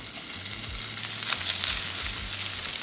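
Seasoned chicken fries in avocado oil in a pan over medium heat, a steady close crackling sizzle with a few louder pops and a faint low hum underneath.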